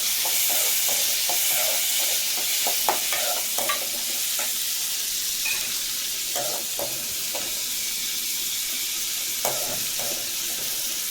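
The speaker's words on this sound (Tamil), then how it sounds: "நல்லா வதக்கணும். ஆனியன் நல்லா வதங்கிருச்சு." Onions with cumin and chana dal sauté in a pan for drumstick-leaf poriyal, a gentle hissing sizzle under irregular light scrapes and taps of stirring, moderately quiet throughout.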